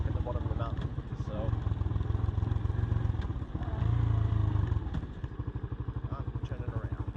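A motorcycle rides along a rainy mountain road and turns around, its engine droning steadily up close with a surge in revs partway through, under rushing wind noise and a voice talking over it.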